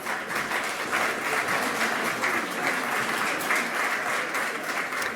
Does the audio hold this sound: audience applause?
yes